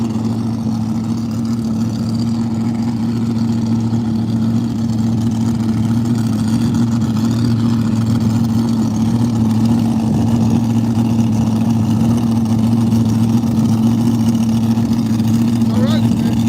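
A sand drag racing car's engine warms up nearby at an Arizona sand drag event, loud and steady with a deep low hum, holding an even rumble throughout without revving up.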